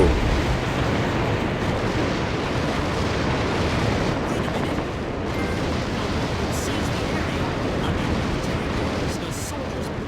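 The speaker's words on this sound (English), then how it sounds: "The soldiers blew up the Alcatraz cannon." Dense, continuous rumbling blasts from explosions in the video game Metal Wolf Chaos XD on PS4, a loud sustained roar of detonations filling the whole stretch.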